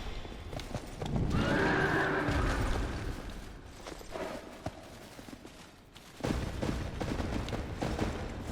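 A horse in the video game Dark Souls 2: Scholar of the First Sin, heard in a loud whinny followed by hoof clip-clops and game effects, alone with no talk.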